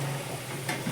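Mango and egg curry ingredients frying in oil in a Telangana-style kitchen, giving a steady, close sizzle with a soft stirring scrape near the end.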